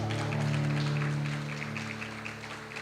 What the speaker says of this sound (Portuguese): Palmas para o Maranhão.